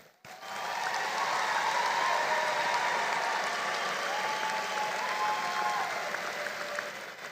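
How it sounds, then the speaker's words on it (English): Dense, sustained applause from a large audience at a university fall commencement ceremony, swelling quickly after a sharp start and holding as a steady wash of clapping before easing slightly, with no talk over it. "This is worthy of a round of applause."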